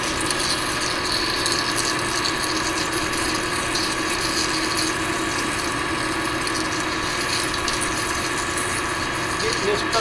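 Wood lathe parting off a Delrin plastic spinning top, giving a steady, continuous dense cutting and whirring noise with a fine ratchety texture, close and fairly loud, running without a break.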